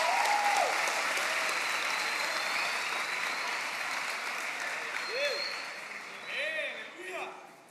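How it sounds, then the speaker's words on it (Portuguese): Applause fills a large evangelical conference hall, steady and dense and carrying on throughout, while a voice speaks faintly over the clapping. "Uma salva de palmas para esses homens aí maravilhosos"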